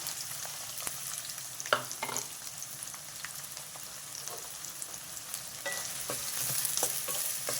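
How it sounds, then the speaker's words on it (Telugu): Chopped onions and green chillies frying in hot oil in a pan, a continuous close sizzle with occasional stirring scrapes and clinks, no voices. "ఆయిల్ వేడైందండి. కట్ చేసి పెట్టుకున్న ఉల్లిపాయ పచ్చిమిర్చి వేసేసుకున్నా."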